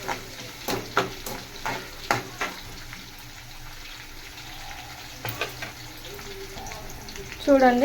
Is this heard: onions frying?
yes